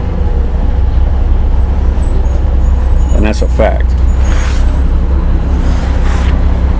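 A bus pulls up with a loud, steady engine rumble and a broad hissing wash from its air brakes, while someone speaks briefly over it.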